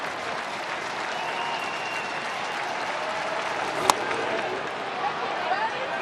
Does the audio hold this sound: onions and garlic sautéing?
no